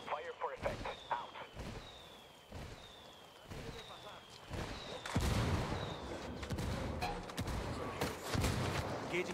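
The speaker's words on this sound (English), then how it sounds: "I'm calling for indirect fire" Artillery strike called in during a desert mission in the video game Ghost Recon Wildlands, heavy booming impacts and rolling blasts landing in a series, with radio voices talking between them.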